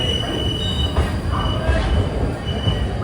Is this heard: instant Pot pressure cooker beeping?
no